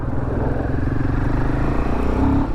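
A Royal Enfield Himalayan 452 motorcycle engine runs loud and close in second gear, a steady low throbbing drone that holds its pitch with a slight push near the end.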